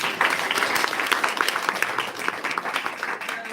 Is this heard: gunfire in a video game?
no